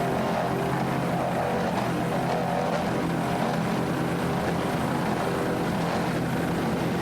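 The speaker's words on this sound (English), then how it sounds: "Nice throttling there by Wyatt Fountain." A 38-foot Fountain powerboat engine roars steadily at close range, a loud continuous motor drone that holds without break through the whole stretch.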